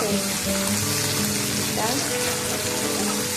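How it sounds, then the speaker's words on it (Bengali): Potatoes frying with salt and turmeric in mustard oil, giving a loud, dense, continuous sizzle that stays close and steady throughout, with no talking. "সর্ষের তেল দিয়েছি, এর মধ্যে আলুগুলো নুন হলুদ দিয়ে ভেজে দেবো।"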